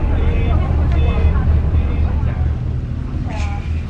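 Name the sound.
barge ride out to a boat in Lan Ha Bay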